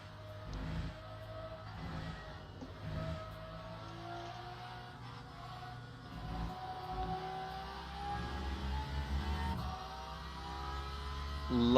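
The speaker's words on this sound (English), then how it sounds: "Love the sound of that diff winding up in the Porsche." Onboard a Porsche 911 GT3 RS on a race circuit, a steady mechanical whine from the differential rising slowly in pitch over a low engine drone, fairly quiet and sustained, swelling at the end.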